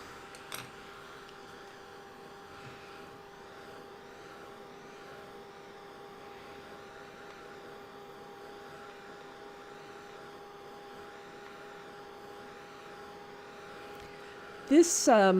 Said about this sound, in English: now I will take the dryer to this